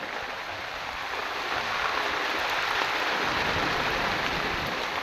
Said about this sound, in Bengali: বৃষ্টি অবিরাম।